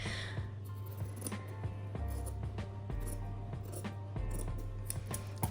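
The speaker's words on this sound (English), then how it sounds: "I feel like this is cutting ASMR at this point." Scissors cut quilting fabric close up, a series of crisp snips and slicing strokes in an uneven rhythm, each cut clear and distinct against a quiet room.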